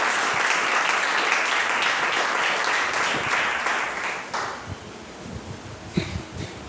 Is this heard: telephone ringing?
no